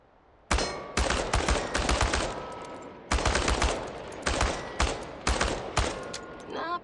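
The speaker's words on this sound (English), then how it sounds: "The biggest challenge is compensating for recoil in automatic firing mode." An automatic rifle fires at cans in a video game in several loud rapid bursts, each a quick rattle of shots separated by short pauses.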